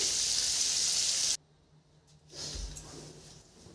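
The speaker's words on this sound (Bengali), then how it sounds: "ভালো করে বাটারটা ভেজে নিই 1 মিনিট" Butter sizzles loudly in a hot pan while being fried for butter paneer, a steady bright hiss that cuts off abruptly partway through and gives way to quieter, softer cooking noise.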